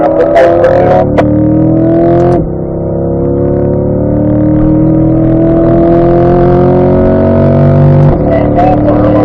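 A Chevrolet C8 Corvette on a race track: loud engine note drops as it brakes, with sharp revving blips on downshifts at the start and end and a steady droning run between, close and dominant, with faint voice traces.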